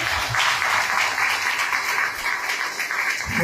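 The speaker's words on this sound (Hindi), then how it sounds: "जोरदार तालियों से धन्यवाद।" A church congregation applauds during a Hindi sermon service, a loud, even roar of many people clapping that carries on for the whole stretch without speech.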